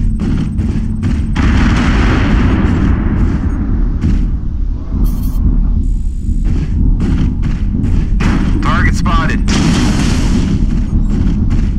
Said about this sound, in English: Artillery striked six of them.